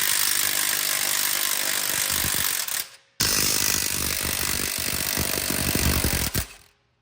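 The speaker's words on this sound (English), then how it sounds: "All right, now with your impact, you're gonna just take this off." Two loud bursts from a power tool working on 5th gen Camaro suspension bolts, each a harsh buzzing, rattling whine lasting a few seconds, separated by a brief pause and close to the microphone.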